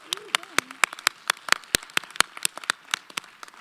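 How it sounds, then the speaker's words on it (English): A convocation audience applauds the Morgan State University Choir with scattered, fairly sparse claps that quickly thin out over a few seconds. "Can we get another round of applause for the Morgan State University Choir?"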